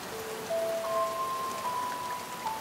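Steady rain hisses in a continuous, even wash, with faint thin tones drifting through the background.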